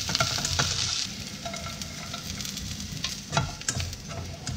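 Dried shrimp, soaked and ground, stir-fried with shallots in hot oil in a pan, a steady close sizzle broken by the scrape and clatter of a spatula tossing the mixture.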